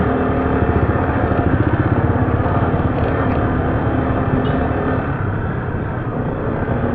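Motorcycles on a remote rural road heard as a loud, close engine drone with a fast pulsing rhythm, steady for about five seconds and then easing slightly as the sound shifts, with no talking.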